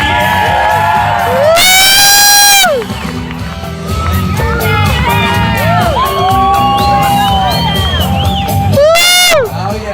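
A crowd at a stage hypnosis show cheering, shouting and whooping, with high shrieking yells rising in bursts and dense overlapping voices throughout, loud and close.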